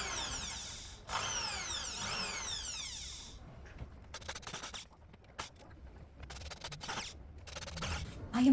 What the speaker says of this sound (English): the entire time the holes that I'm drilling are tearing out